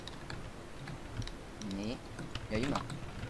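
Rapid clicking of a computer keyboard during a Minecraft Survival Games session, quick close keystrokes running throughout with voices talking over them.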